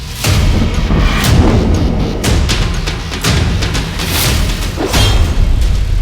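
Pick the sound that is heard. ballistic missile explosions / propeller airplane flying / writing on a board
ballistic missile explosions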